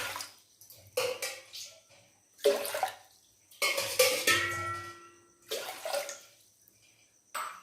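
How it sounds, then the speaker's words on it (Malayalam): Glassfuls of water are poured into a cooking pot for a broken-wheat and green-gram porridge. Several separate splashing pours come up close, each lasting about a second, with short quiet gaps between them. "അതിനൊരു 5 ഗ്ലാസ് വെള്ളം ഒഴിച്ച് കൊടുക്കുക"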